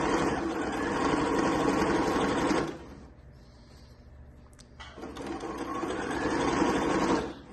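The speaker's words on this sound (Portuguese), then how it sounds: "E vou fazendo essa costura, tá vendo? Na beiradinha." A sewing machine stitches a seam along the edge of a travel bag, a close, steady mechanical whirring that stops for about two seconds and then resumes at the same even pace.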